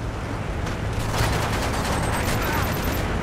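Strafe-run gunfire in the video game Modern Warfare 3: a dense, rolling barrage of rapid shots and booms on the map Dome, loud and sustained with no voices over it.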